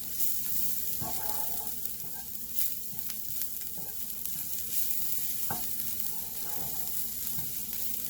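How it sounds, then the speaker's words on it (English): Bitter gourd frying in a pan on a low flame, giving a soft, even sizzle with intermittent scrapes of stirring, close but fairly quiet and continuous. "Just fry for a minute. On a low flame."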